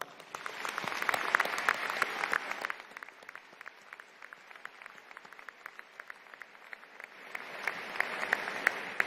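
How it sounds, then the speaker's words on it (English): Students clapping for retiring teachers at a high school graduation ceremony: sustained applause from a large crowd, swelling at the start, thinning briefly in the middle, then building again toward the end. "now would be a great time to give these teachers a warm round of applause"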